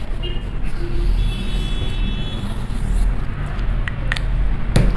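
Steady car and bus traffic rumbles along a busy avenue, a continuous low roar with passing vehicles and a brief brake hiss near the end, while a voice speaks faintly underneath.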